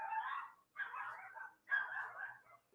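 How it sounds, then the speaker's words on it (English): Three barks or yelping calls come from dogs in a home, about one a second, each followed by a short pause, faint and somewhat distant in the background with no speech over them. "On the background, I can hear my dogs barking, going crazy."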